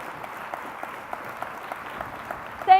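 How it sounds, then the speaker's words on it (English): A conference audience applauds a nursing panel with light, scattered clapping, a moderate patter of many hands throughout, fairly even in level, ending on a brief louder swell. "A huge round of applause for our brilliant panel."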